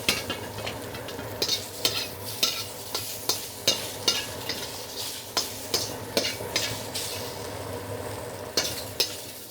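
Salted shrimp stir-fry in oil in a pan for pad see ew, a loud sizzle broken by a regular run of sharp scraping strokes about every half second, close by and with no voices.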